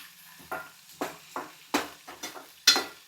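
Chopped ginger and green chilies frying in a pan beside cashews while milk pongal is made, with about six scraping stirs over a soft sizzle and no talk.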